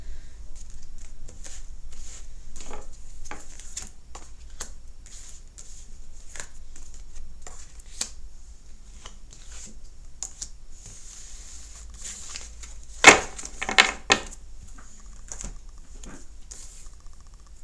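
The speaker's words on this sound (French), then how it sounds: "On choisit 9 cartes. Neuf cartes pour les vierges." Tarot cards being shuffled and drawn by hand for a monthly Virgo reading: soft papery flicks and taps in a steady patter, up close, with a few louder snaps near the end.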